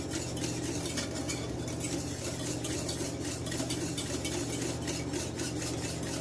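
A spoon steadily scraping and stirring thick béchamel sauce in a pot on the stove, a close, continuous rhythmic swishing with a low background hum and no talk.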